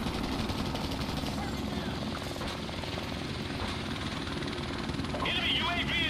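A helicopter in Modern Warfare Remastered drones with a constant rotor thump and engine whine. It stays loud and close throughout and is joined by a higher in-game tone near the end, with talk running under it.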